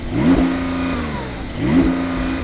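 A Porsche 911 Turbo S engine, in neutral, revs hard twice, climbing quickly and holding at a steady bouncing limiter note before dropping back, loud and close.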